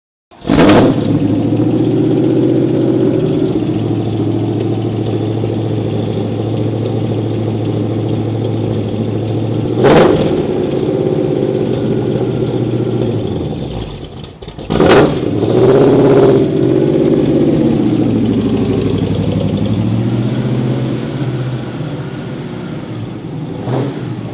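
A car engine idles with a deep, steady rumble, broken by three sharp throttle blips that rev up and fall back; loud and close, no talking.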